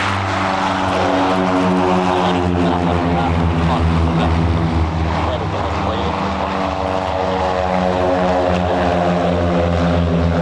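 Propeller aircraft of the Royal Norwegian Air Force's Yellow Sparrows aerobatic display team drone loudly and steadily overhead, a dense continuous engine and propeller hum for the whole stretch.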